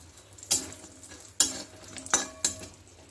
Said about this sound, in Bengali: এই বিউলির ডালে বড়িগুলোকে এই তেলে ভেজে নেব